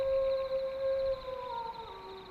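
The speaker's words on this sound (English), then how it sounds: "Somewhere deep in the dark, wolves howled." Wolves howl deep in a dark forest at night: one long, steady, faint howl that bends lower toward the end, with a thin higher tone above it and no talking.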